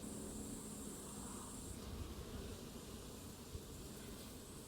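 Honeybees drone faintly and steadily inside a hive while fertilized queens are released, forming a soft, continuous buzzing hiss with no voices.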